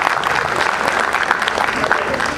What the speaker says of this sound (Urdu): تو خصوصی تالیاں ان کی پوری فیملی کے لیے